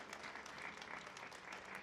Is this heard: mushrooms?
no